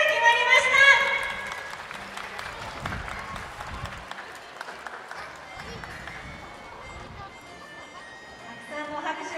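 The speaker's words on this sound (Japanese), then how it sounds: "たくさんの拍手をありがとうございます。" An audience at a public orca training show at an aquarium bursts into loud applause that peaks early and then fades into scattered clapping and crowd murmur. A voice speaks faintly beneath it.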